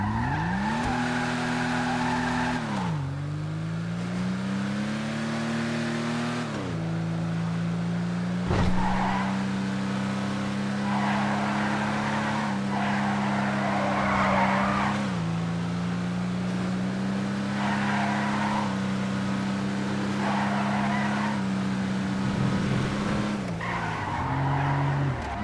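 Nebula Turbo two-door sports classic car driven in a video game, its engine droning continuously through gear changes with pitch dips and climbs, while tires squeal and skid repeatedly throughout.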